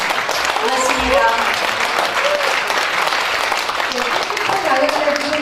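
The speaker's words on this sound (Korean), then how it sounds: "나경원 의원님께 다시 한번 뜨거운 박수 부탁드립니다" A crowd at a political event gives steady, loud applause for lawmaker Na Kyung-won, with dense clapping that holds for the whole stretch.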